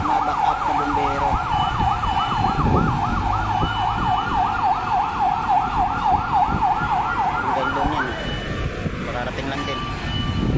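A fire truck siren wails in a steady, rapid up-and-down cycle at a fire scene on Merced Street in Paco, Manila, loud and near for several seconds before cutting out, with traffic noise and people talking around it.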